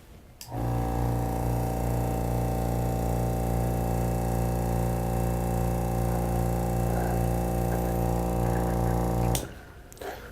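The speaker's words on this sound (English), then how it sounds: "Turn on our vacuum and pull that to waste." A steady mechanical hum drones loudly and continuously for several seconds, starting and stopping abruptly, as a vacuum pump pulls liquid to waste during an oil and grease extraction.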